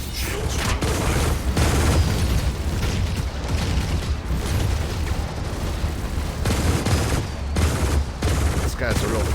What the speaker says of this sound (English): I can time out my cannon shots to seconds.